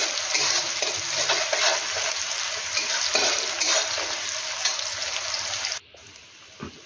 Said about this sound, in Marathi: आता यामध्ये आपण कांदा घालून घेऊया। हे सर्व आपल्याला हाय फ्लेमवर छान असे परतून घ्यायचे आहे।